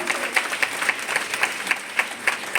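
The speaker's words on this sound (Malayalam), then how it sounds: "നല്ല കൈയടി." A room full of people at a sales meeting breaks into clapping, a brisk, even patter of many hands with rhythmic accented claps pulsing through it, no voices over the top.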